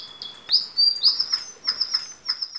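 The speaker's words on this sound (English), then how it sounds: "it makes bird sounds, and it mimics a bit the real bird" A Digibirds toy bird sings electronic bird sounds, a run of bright, high chirps and short whistled trills in quick bursts, close and clear with no talking.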